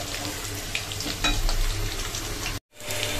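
Potatoes fry in hot oil for chicken curry in a home kitchen, giving a steady close sizzle and crackle with faint stirring, briefly cut to silence near the end before the frying resumes.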